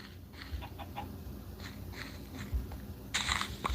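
Chicken clucking in the Minecraft video game, a few short clucks scattered over steady low game background noise, moderately faint, with no talk.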